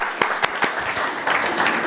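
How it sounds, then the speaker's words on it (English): A conference audience applauds panellists on stage with brief, dense clapping, a few sharp claps standing out near the start before the sound settles into a steady wash. "a big round of applause for our panellists here today"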